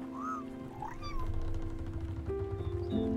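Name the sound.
cat meowing in the video game Spiritfarer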